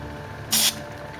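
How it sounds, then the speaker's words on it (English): A short, loud burst of spray hisses from a can as product is sprayed up the sides, lasting under a quarter second against a quiet background. "Just spray it up the sides."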